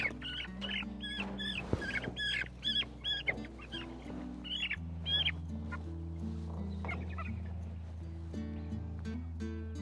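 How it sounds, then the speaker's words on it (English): Four-week-old Cornish Cross meat chickens, fully feathered, chirp and peep in a dense overlapping chorus with scattered squeaky calls, close and continuous over a low hum. "So this is our Cornish Cross chicken."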